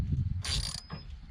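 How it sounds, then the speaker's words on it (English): A ratchet wrench briefly clicks and rattles while loosening a 3/8 inch bolt on the gear housing of a Husqvarna LC22 all-wheel-drive mower, a quiet, close mechanical burst over a low rumble. "The first thing you're going to have to do is remove this bolt right here."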